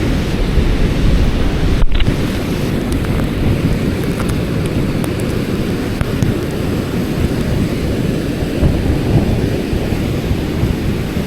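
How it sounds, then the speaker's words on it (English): Gusty wind by the Fox River buffets the microphone in a loud, continuous low rumble with surging gusts and no speech throughout. "The wind isn't that strong, but it's a little bit, some gusts."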